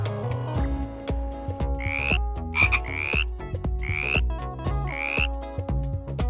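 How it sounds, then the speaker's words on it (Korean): A toy frog croaks in a series of chirpy, rising calls, about five of them, over clattering, splashing bath-time toy noises, with no talk. "개구리"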